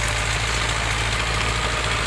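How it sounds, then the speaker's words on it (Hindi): A tractor engine idles steadily and loudly in a kinnow orchard in Pakistan, with a continuous low mechanical rumble and vibration and no speech over it. "ये ट्रैक्टर आ गया।"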